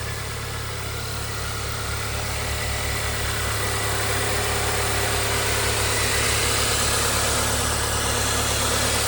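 A 2016 Volkswagen GTI's engine runs at a steady idle after an engine bay wash, with an even low hum and vibration throughout and no talk.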